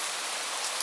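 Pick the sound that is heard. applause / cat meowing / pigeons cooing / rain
rain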